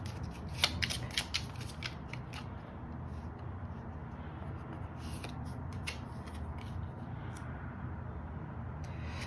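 Tarot cards are shuffled and drawn during a reading, giving a string of crisp, close card snaps and flicks in the first few seconds, then softer rustling and handling over a low steady background hum.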